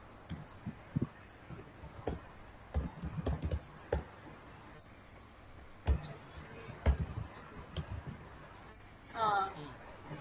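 Rapid clicks of a computer keyboard come in irregular bursts while code is written during a beginner React programming lesson, light and close, with quiet pauses between runs of keystrokes.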